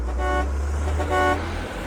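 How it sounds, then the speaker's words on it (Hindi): Heavy truck horns honk in two blasts over a low, rumbling engine drone, loud and close by. "पल भर के लिए ही ट्रकों के हॉर्न के शोर ने मुझे याद दिलाया"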